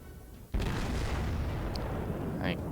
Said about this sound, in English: I get off one broad, or not really a broadside, but one turret going off.